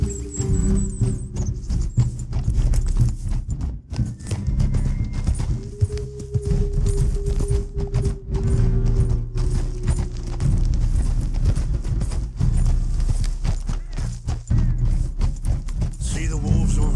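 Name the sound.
horse hooves riding, from video game Red Dead Redemption 2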